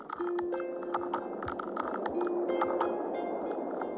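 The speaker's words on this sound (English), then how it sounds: "This is the sound of their munching teeth, amplified by their shells," Kina sea urchins munch tough kelp with their five teeth, heard underwater as a steady stream of short, sharp clicks and crunches with a faint tonal hum beneath.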